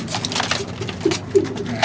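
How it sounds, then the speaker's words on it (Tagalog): Hungry pigeons are fed during summer training in Tanay, Rizal, with close soft cooing mixed with rustling, pecking and scattering sounds in quick irregular bursts. "So ito, papakainin na natin ating mga ibon."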